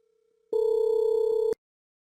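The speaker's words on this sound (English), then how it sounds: "Make a phone call to turn off the light with the controller." A steady electronic telephone call tone from a GSM remote controller switching a lamp, a single sustained beep lasting about a second with a faint tone before it, clear and alone.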